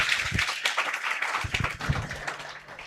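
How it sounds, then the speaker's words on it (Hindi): Audience applause greeting a presenter at an offline exam-preparation meetup, a dense patter of many hands clapping at moderate volume for a few seconds before easing off. "एक बार जोरदार तालियों गड़गड़ाहट के साथ कपिल सर"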